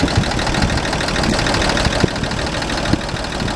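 An old car engine idles steadily after a carburetor rebuild, a dense even rumble with occasional faint knocks, close and moderately loud.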